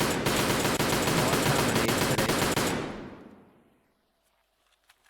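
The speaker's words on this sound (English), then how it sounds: "puts a ton of bullets through the smoke" A dense, continuous burst of automatic gunfire sprayed through smoke in a tactical shooter esports match, loud and close for about three seconds before trailing off into a fading echo and near silence.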